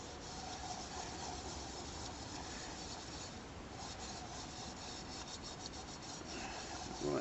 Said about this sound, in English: Stainless steel scourers, absolute genius. Rub, rub, rub, rub, rub,